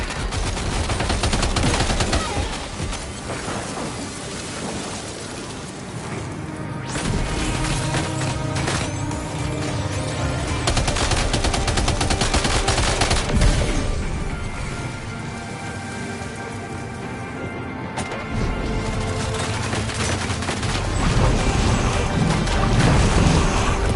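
Gunfire in the video game Death Stranding 2, loud sustained bursts of rapid automatic shots layered over a heavy noisy background, continuing almost without pause for the whole stretch with no talking.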